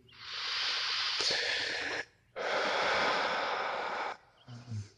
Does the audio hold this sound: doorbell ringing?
no